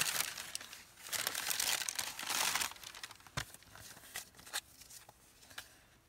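Paper from a calendar being folded and creased, a run of loud crinkling and crumpling for several seconds, then scattered sharper creases and rustles close by with no talking.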